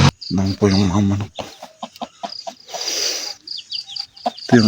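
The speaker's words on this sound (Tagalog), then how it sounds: "Dami po yung mga manok." Chickens cluck and cackle close by in a rural Filipino yard, several short bursts mixed with a faint insect trill, and a person speaks briefly between the calls.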